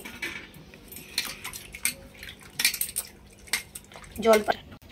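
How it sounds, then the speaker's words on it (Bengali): Peeled potatoes being rinsed by hand in a bowl of water in a home kitchen, with scattered close clinks, knocks and soft splashes in irregular bursts, quiet overall, with a faint voice now and then. "এবারে জলের মধ্যে দিয়ে দিচ্ছি, ভালো করে ধুয়ে নেব"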